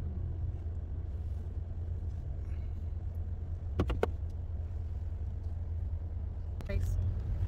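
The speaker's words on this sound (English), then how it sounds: "We are driving now on Main Street." Inside a car driving on Main Street in Dallas at Christmastime: low, steady engine and road rumble throughout, with a few sharp clicks or rattles near the middle and one more toward the end, fairly quiet.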